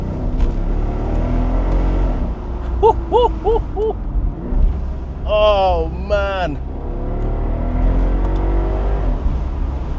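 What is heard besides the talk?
Mercedes SL63 AMG 5.5 litre V8 engine revving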